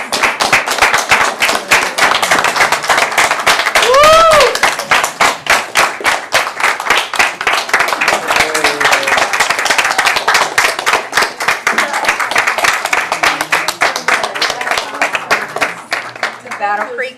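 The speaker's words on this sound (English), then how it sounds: "Let's join together, everybody, in giving Patty and Catherine a round of applause." A school board meeting audience claps steadily for about seventeen seconds, dense, close applause with a few brief cheers mixed in.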